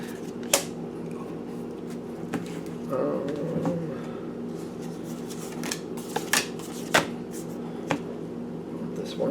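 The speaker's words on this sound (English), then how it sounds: "We're going to be pulling from the bottom of the deck again." Tarot cards are shuffled and drawn from the bottom of a deck, giving soft, scattered riffling and flicking sounds with sharp card snaps at irregular intervals over quiet room noise.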